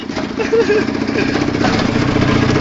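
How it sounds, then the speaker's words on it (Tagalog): A large Hummer engine idles nearby with a loud, steady low rumble throughout. "Ito yung makina. Ang laki ng makina, no?"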